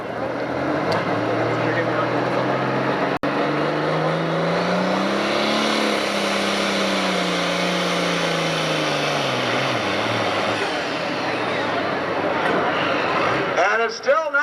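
A loud pulling-tractor engine revs and roars steadily at a 1996 Freeport, Illinois tractor pull, its pitch rising and falling, while an announcer talks over it.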